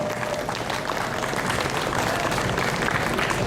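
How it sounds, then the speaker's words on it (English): Convention audience at an anime festival's closing ceremony breaking into loud, dense applause that holds steady throughout, with a faint murmur of crowd voices mixed in. "So hand of applause for all our team and volunteers"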